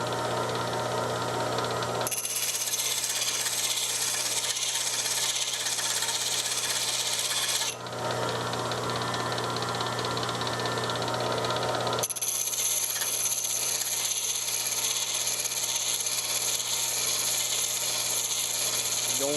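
Chisels and center punches being sharpened on a grinder, a continuous harsh grinding rasp over nearly twenty seconds that shifts in tone as the steel is repositioned, loud and close with little else heard.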